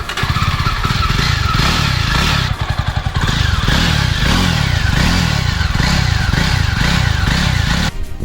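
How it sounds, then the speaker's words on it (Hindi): A Bullet Electra or Jawa Classic motorcycle engine idles at starting speed, a loud, steady close-up thump with a rhythmic, pulsing beat and mechanical clatter that stays continuous throughout. "जो एक इंजन स्टार्टिंग स्पीड होता है उससे हमें पता चल जाएगा कि इंजन जो हाई स्पीड पे रहेगी तो क्या आवाज़ करेगी"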